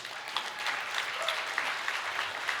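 Steady applause from a luncheon audience, a dense patter of many hands clapping at moderate distance, continuing evenly throughout with no talk over it.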